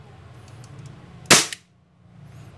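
A single sharp pop from a Jericho 941 airsoft pistol fired empty without a BB, a crisp snap with a brief mechanical click right after, in an otherwise quiet room.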